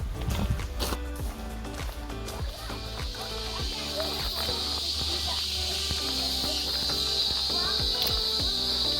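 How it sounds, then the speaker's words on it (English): Cicada buzzing in a tree along the MacRitchie Nature Trail, a steady high, shrill drone that swells in after a few seconds and holds, over nearby footsteps and trail noise. "By the way, the cicada is making the sound"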